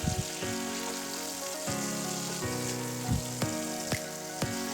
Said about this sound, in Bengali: কালো জিরেটা যখন ভাজা হয়ে যাবে তখন তার মধ্যে দিয়ে দিচ্ছি আগে থেকে কুচিয়ে রাখা রসুন আর